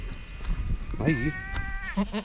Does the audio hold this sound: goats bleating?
yes